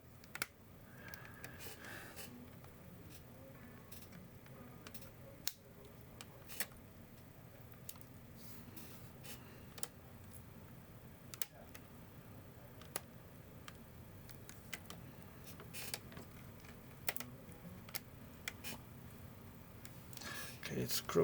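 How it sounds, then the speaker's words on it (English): Faint scattered plastic clicks and snaps at close range, irregular and sparse over a quiet background, as the plastic clips of an HP Victus gaming laptop's screen bezel are pried apart. "We should hear the plastic clicking."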